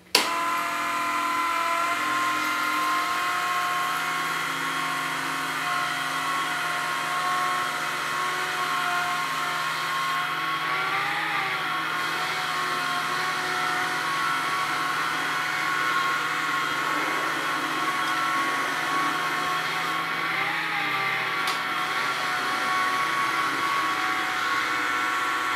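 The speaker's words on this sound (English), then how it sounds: "I switch to scrub mode and apply the solution by squeezing the trigger." Vax Floormate Freedom cordless floor cleaner running in scrub mode, a loud continuous motor whine with brush hum, holding steady throughout with slight pitch wobbles as it moves across the floor.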